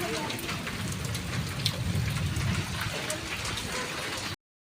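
Heavy rain pours down on a yard already flooded with standing water. A dense, continuous patter and hiss holds steady until it cuts off abruptly near the end.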